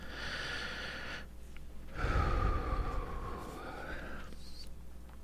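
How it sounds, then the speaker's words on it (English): A single long, deep breath is drawn in slowly and then released as a soft, breathy exhale, close and quiet in a calm setting. "Nice big deep breath."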